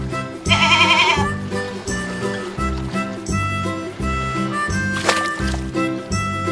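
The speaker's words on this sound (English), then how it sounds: "Goat." A goat bleats near the start, a wavering, quavering cry, followed by a quieter background of tonal sounds and faint watery noise.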